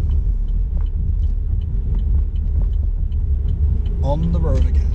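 An electric vehicle drives along a Pennsylvania road: a steady, close rumble of road and tyre noise throughout, with a brief voice-like sound near the end.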